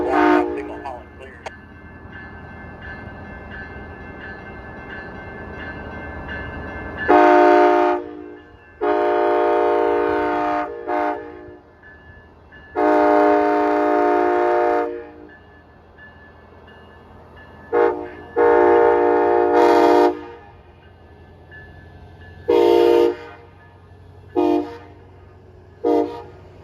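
Amtrak ALC-42 locomotive hauling train P371 sounds repeated loud horn blasts, long and short in a crossing pattern, over a low rumble of the train rolling past nearby, with a brief opening tone.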